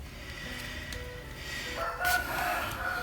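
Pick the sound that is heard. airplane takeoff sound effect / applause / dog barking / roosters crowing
roosters crowing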